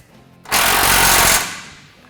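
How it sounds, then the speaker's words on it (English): A loud power drill boring holes for an LS swap transmission cross member under a vehicle in a garage, one steady close grinding burst lasting under a second before winding down, with no voices. "we went ahead and drilled our holes and installed our LS swap cross member"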